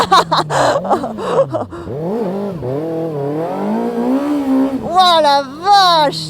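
A 2024 Kawasaki ZX-6R stock sport bike drifting during stunt riding, its engine close and loud, revving up and down in long swooping pitch sweeps, with a rider's excited exclamations before and after.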